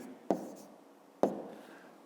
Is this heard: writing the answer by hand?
yes